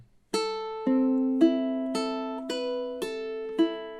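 Ukulele fingerpicking etude, measure six, rings out alone in time: about seven clear plucked notes spaced evenly, each letting its bright tone sustain and decay before the next.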